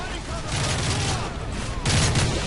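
Loud bursts of explosions and gunfire in Call of Duty: Modern Warfare 3, with heavy rumbling booms near the middle and again toward the end, over dense background noise.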